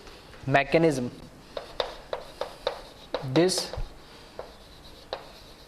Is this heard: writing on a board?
yes